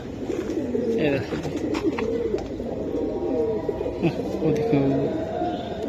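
Silver Giribaz pigeons coo in low repeated rolling calls close by, continuing throughout while someone talks over them.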